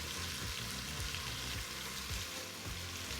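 A beef roast sautéing in an Instant Pot gives a steady, close sizzle and crackle of searing meat, continuous and fairly quiet, with no voices over it.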